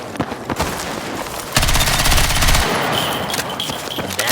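A rapid automatic weapon burst in the video game Battlefield 6, loud and close, lasting about a second, preceded and followed by a few sharper single shots and movement sounds.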